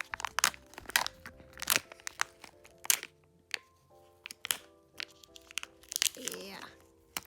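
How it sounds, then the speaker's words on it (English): Crinkly crunching and plastic crumpling from eating a blue Kinder Joy with a spoon, in close, irregular bursts with soft clicks, while a voice speaks briefly near the end. "So in the end, I'm gonna eat this blue Kinder Joy."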